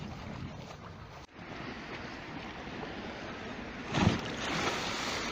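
Rushing water and wind roar steadily as sea waves break near a road and bridge, with a louder splash of a wave surging up around the middle, heard up close outdoors.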